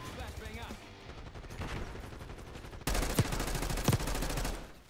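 Gunfire in the shooter Black Ops 6, with dense bursts of shots that grow louder and sharper partway through, over a steady background of game noise.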